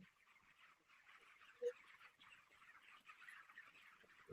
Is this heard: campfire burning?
no